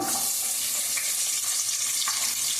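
Onions sizzle and crackle loudly in hot oil, a dense continuous frying hiss with no one speaking.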